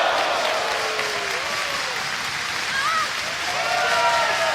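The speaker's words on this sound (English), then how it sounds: "Candice has the crowd on their feet here in Baltimore" A wrestling crowd in Baltimore cheers and applauds loudly and continuously, a dense wash of clapping and shouting with whistles and a commentator's voice mixed in.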